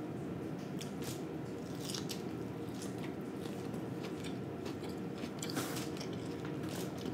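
Close, steady biting and chewing of a whole fried fish, head still on, with soft crunchy and wet mouth sounds running continuously at fairly low level, no talking.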